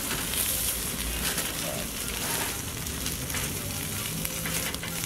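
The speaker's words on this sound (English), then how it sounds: "You're burning up the potatoes. Flames on the potatoes then." Potatoes sizzling over open flames in a backyard jerk pot, a steady loud frying crackle with fire roar, close and continuous.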